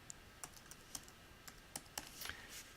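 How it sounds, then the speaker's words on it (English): Typing on a computer keyboard, a quiet run of separate key clicks at an uneven rhythm, picked up close for a few seconds with no talk. "I'm going to type in admin,"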